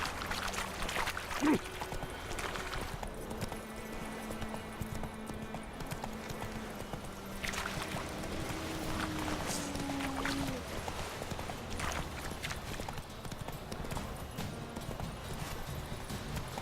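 Horse hooves clip-clop steadily in The Witcher 3 as the horse trots along, a continuous even rhythm of hoofbeats running throughout over a constant background bed of game ambience.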